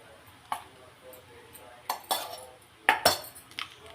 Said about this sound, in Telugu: పౌడర్ మీకు ఎంత కావాలో అంత వేసుకొని కలుపుకోండి.